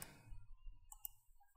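Quiet mouse clicks while toggling track settings in Adobe Premiere Pro, heard as a couple of faint, brief ticks in an otherwise hushed room.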